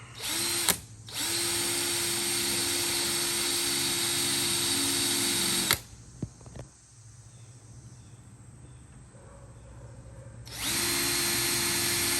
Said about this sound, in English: Maybe get a drill